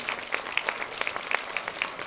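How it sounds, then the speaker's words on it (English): Audience applause for two guests at an Elvis fan interview event, steady moderate clapping with distinct sharp individual claps standing out over roughly two seconds, somewhat distant and without voices. "So let's give them both a round of applause."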